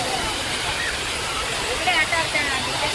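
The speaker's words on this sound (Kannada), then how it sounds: "ಇದೆ ಮಿನಿ ವಾಟರ್ ಫಾಲ್ಸ್ ಶ್ರೀನಿವಾಸ ಸಾಗರ" Small waterfall at Srinivasa Sagara, a loud, steady broadband rush of falling water close by, with faint voices partly masked beneath it.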